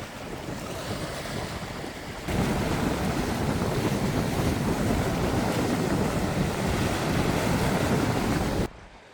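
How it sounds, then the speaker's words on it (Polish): Strong wind roaring outdoors on the Hel Peninsula in autumn, a steady loud rush with heavy microphone buffeting that swells sharply after the first two seconds and holds until near the end, with no talking. "tu już wieje mocno"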